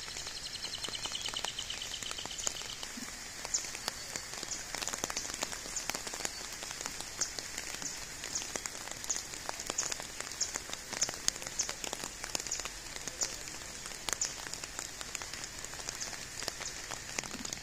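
Steady rain patters on surfaces during a flood in Belize, a continuous hiss dotted with sharper drips, moderately faint and unbroken throughout, with no voices.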